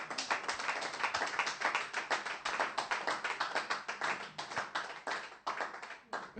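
A church congregation claps in acclaim of the Lord, producing a steady stream of overlapping handclaps that is fairly near and lively and runs for several seconds with no speech over it.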